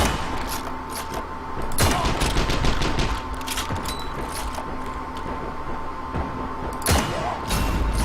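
Infantry combat in the video game Heroes and Generals, where a Panzerfaust is fired amid gunfire: rapid bursts of automatic fire and scattered single shots crackle throughout, with a couple of heavier thumping blasts standing out near and loud.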